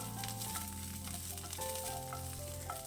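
Shallots sauté in a pan for Kerala egg curry, a soft, steady sizzle with faint stirring, close and quiet, with no voices over it.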